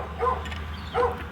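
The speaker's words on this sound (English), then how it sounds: "Oh, and dogs." Two short dog barks or yips, moderately distant, heard outdoors in open country alongside birdlife, with a steady low background hum underneath.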